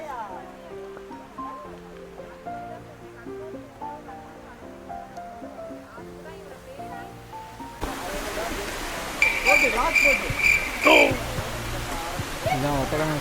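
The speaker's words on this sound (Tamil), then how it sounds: "இதுதான் வட்டக்கனல் ஃபால்ஸ்." Vattakanal waterfall in Kodaikanal sends up a broad, steady rush of falling water. It only comes in partway through, after a stretch of music, and then carries on loud and continuous.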